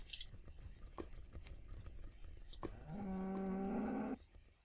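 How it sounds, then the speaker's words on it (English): A cow moos in a jungle level of a video game, a single drawn-out low call of about a second that stands clearly above quiet background game ambience. "Not that noise. That's a cow."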